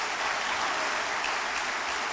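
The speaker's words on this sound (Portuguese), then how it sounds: "aplauda o Senhor Jesus, por favor" A church congregation applauds in a dense, steady wash of clapping that stays even and close throughout, with no voices standing out.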